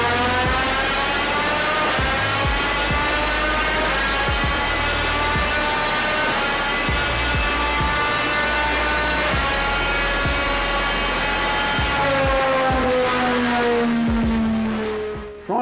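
A Triumph 765cc triple Moto2 prototype engine screams at sustained high revs, the high pitch wavering and climbing, then easing off near the end.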